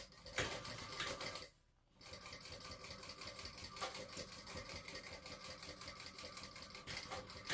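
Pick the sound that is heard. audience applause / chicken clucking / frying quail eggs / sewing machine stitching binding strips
sewing machine stitching binding strips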